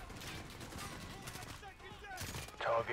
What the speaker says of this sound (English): Well, I think I'm shooting my teammates.